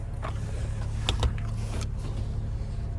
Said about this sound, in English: We do get a power lift gate back here as well.